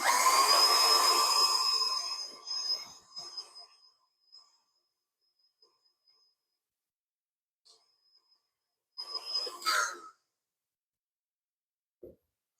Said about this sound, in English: So now we just need to get those all mixed in